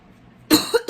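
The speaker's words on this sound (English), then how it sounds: "I hate coughing in front of you guys." A woman coughs loudly and close up, two or three harsh bursts in quick succession after a quiet pause, during an indoor coloring chat session.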